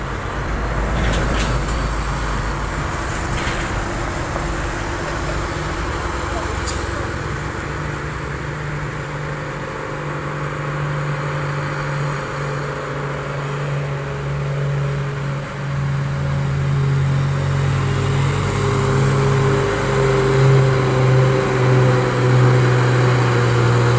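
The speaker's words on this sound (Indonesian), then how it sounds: "Di sana ada truk Fuso yang mau mendaki." A Fuso truck engine labors as it climbs a steep uphill road, a steady low drone with rising and sustained tones under continuous roadway noise throughout.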